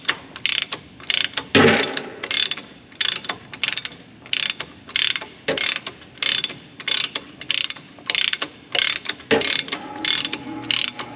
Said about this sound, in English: Take this nut off.